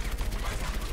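Rapid, dense bursts of gunfire rattle continuously, loud and close, like automatic weapons in a game.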